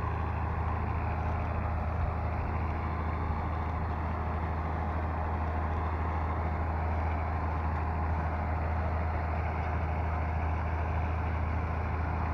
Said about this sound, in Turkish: Şimdi arpa biçiyoruz.